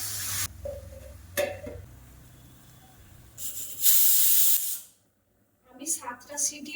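A kitchen pressure cooker, used for cooking vegetables, lets out bursts of hissing steam, including one loud sustained blast near the middle. The sound is close and broken by short pauses and clatter, and a voice is heard faintly.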